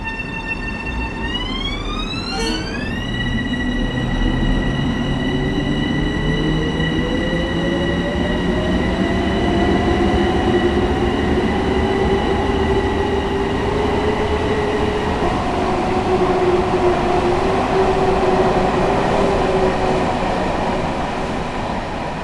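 M7A commuter train on the MTA Harlem Line in Train Sim World 5, a loud steady rumble of motors and wheels with a rising electric whine as it picks up speed, plus a brief high tonal chime near the start.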